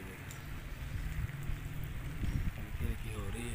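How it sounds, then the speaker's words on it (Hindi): Light drizzle patters steadily outdoors in a Punjab village during the first summer rain, a soft continuous hiss with faint drop taps and some wind, under low rumbling background noise throughout. "ये देखें बारिश भी हो रही है हल्की हल्की।"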